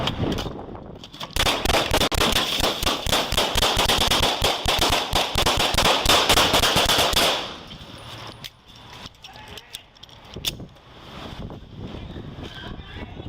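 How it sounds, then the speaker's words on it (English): Gunfire exchanged between a suspect and police officers: a dense, loud barrage of many rapid shots lasting several seconds, then a quieter stretch with scattered movement and faint sounds. "he drew a firearm and opened fire, striking one officer and forcing other officers to return fire to subdue him"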